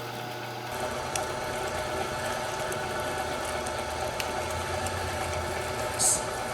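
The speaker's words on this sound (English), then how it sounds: "This grinder's actually pretty good. It's moving right along." An electric meat grinder steadily grinds bratwurst meat, a continuous close motor hum with faint mechanical ticks running evenly throughout.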